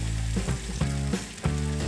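Wet-cured bacon fries in a pan with a dense, continuous sizzle and crackle, close and loud, broken by a few soft scraping stirs and no talk.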